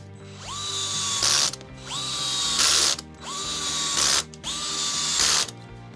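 A power screwdriver drives screws into the rear suspension support of a Tamiya Volvo FH16 8x4 tow truck model kit, with four repeated rising whirs, each ending in a brief ratcheting clatter.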